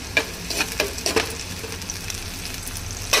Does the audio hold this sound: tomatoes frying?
yes